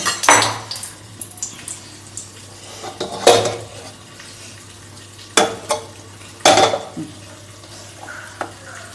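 A metal pot set on the stove and greased with oil for chicken biryani: several loud, close clanks and scrapes of cookware spaced through the passage, with quieter rattles and a faint hiss between them.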